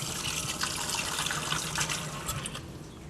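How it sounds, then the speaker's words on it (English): Cold tap water runs steadily over freshly cooked fettuccine in a home kitchen, a continuous close splashing trickle that holds level for about three seconds without speech. "run a little cold water under that, and make sure that's done."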